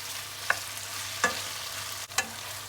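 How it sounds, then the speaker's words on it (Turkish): Tomatoes being sautéed and stirred in a pan for a hearty pre-dawn sahur dish, giving a low sizzle with a few brief scraping stirs spaced apart, fairly faint and close. "Biraz da böyle domateslerle birlikte kavuruyoruz."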